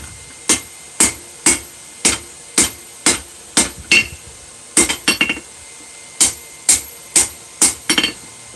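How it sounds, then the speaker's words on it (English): Hammer blows forging a steel wrench into a tomahawk, sharp ringing metallic strikes in a steady rhythm of single hits and quick bursts, close and loud with short pauses between runs. "So right now I'm basically just trying to do more of a general forging, to get it as close as I can"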